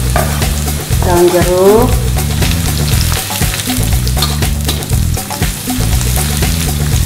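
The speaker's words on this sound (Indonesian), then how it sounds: "Tumis bawang merah sampai harum dan layu." Shallots and red chillies stir-fried in a wok for sweet-sour dried tempeh, a loud continuous sizzle with scraping stirs throughout, a brief tonal squeal near the start.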